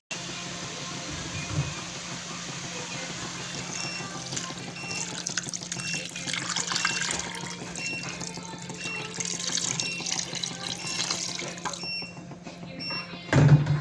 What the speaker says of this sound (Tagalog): Pwede natin ilagay ang tubig